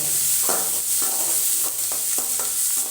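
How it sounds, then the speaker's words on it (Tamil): Curry leaves and onion sizzling in hot oil, stirred in a steady rhythm of scraping strokes over a constant bright frying hiss, close and loud with no voices. "கருவேப்பிலை போட்டு வெங்காயம் போட்டுக்கலாம்"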